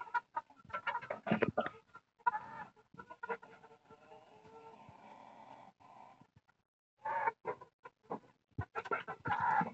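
Village chickens cluck in close, irregular bursts, busy at first, easing into a quieter stretch and a short silence, then picking up again.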